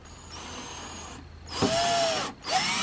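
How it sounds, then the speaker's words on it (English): A power drill whirs steadily, stops briefly, then revs up louder with a rising whine as it bores a pilot hole for a screw during playhouse door and window installation, pausing and resuming at the end. "do a pre-drill hole here for the screw"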